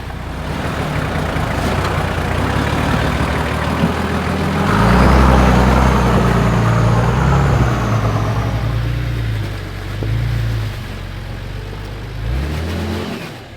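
A 4WD vehicle engine crawls across rocks on a Blue Mountains track, idling and revving in bursts as the wheels work for grip, loud and close with surges of acceleration in the middle.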